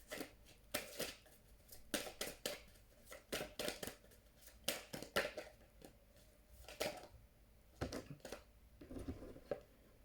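Tarot cards being shuffled and drawn from a deck make quiet, close paper riffles and sharp flicks in irregular bursts, with short pauses between, and no talking.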